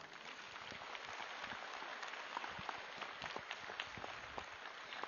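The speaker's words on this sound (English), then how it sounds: "A huge round of applause, please." An audience gives sustained applause at a morning music meditation event with live musicians, a dense, even clapping that is heard alone without speech.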